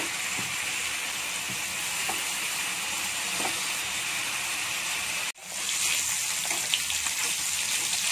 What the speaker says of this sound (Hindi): बटर मेल्ट होते ही मैं चिकन के पीसेस को इसमें छोड़ दूंगी और दो तीन मिनट एक एक साइड को पलट पलट के फ्राई करूंगी